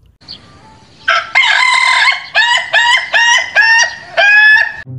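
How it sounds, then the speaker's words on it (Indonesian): A rooster gives one loud, close crow made of several rising and falling pulses lasting a few seconds, with no talking over it. "ada ayam jago"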